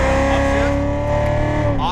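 Corvette Z06 Stingray at full throttle on a race track, its engine droning loud and close as a steady high tone that climbs and then eases, with a voice speaking over it.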